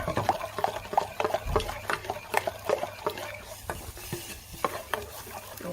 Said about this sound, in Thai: แล้วก็จะเคี่ยวน้ำตาลกับน้ำปลานะคะให้ละลาย พร้อมกับใส่พริกไปด้วยใช่ไหม